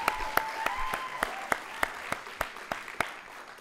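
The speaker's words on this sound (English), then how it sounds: "a special round of applause for Marcy McPhee, who has been absolutely amazing." Audience at a keynote address giving a round of applause for Marcy McPhee, heard as about a dozen distinct, evenly spaced claps over a faint steady tone.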